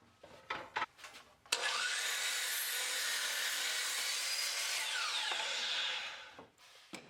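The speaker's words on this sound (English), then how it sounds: "I'm going to be cutting a series of miters" A miter saw slices through wooden boards at 45- and 90-degree angles for a corner plant shelf, with a loud, steady whine lasting about five seconds. A few short knocks of handling come before it, and it ends in quieter bumps.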